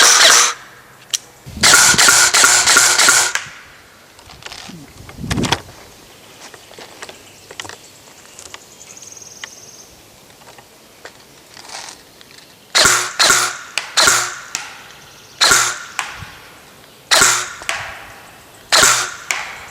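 Airsoft guns, AK and M4 style replicas, firing heavier BB pellets outdoors, sharp cracking bursts in fast volleys separated by quieter gaps, loud and close with no talking.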